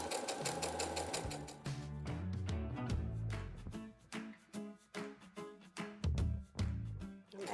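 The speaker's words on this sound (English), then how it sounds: "I'll quickly go along and stitch this" An embroidery sewing machine stitches through washaway stabilizer in a steady run of rapid needle beats, close and continuous, with a few brief pauses and shifts in pace near the end.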